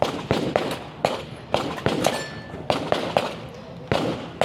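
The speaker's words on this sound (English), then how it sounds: "they will start with their rifle and hit 5 steel shots" Rifle shots ring out at a tactical shooting competition's steel-target stage, about a dozen sharp reports in quick, uneven succession. Each crack is followed by a brief metallic ring as steel targets are hit, loud and close with no talking.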